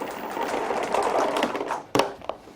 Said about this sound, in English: they've given you a cord rewind button right there.